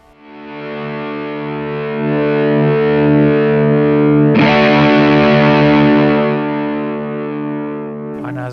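Electric guitar through a Suhr Shiba Drive overdrive pedal, sustained distorted chords ringing out, a fresh strum partway through, with overall loudness easing down as the level knob turns lower.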